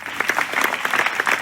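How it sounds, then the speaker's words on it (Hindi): A church congregation at a sermon in Faisalabad breaks into applause, a dense burst of many hands clapping from a crowd, steady and loud throughout the brief moment. "रूहुल कुद्स के लिए तालियां बजाइए,"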